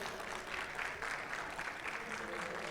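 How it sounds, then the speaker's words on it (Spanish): Applause from an audience at an academic workshop, a faint, even patter of clapping that stays at a low, steady level for a few seconds. "Les pido un aplauso, por favor."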